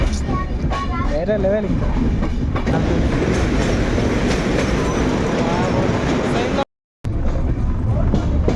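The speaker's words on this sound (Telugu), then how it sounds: "అది ట్రైన్ వస్తుంది" A train passes on the Araku to Vizag line through hilly country, its steady rumble and rail clatter filling the scene up close, with a brief dropout near the end while people talk over it.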